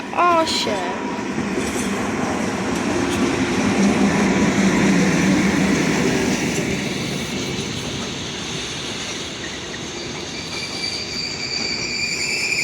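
A freight train hauled by an ET22 electric locomotive rolls through Poznań Starołęka station, with wheels squealing at first and then a long, loud rumble and clatter of wagons that eases off toward the end.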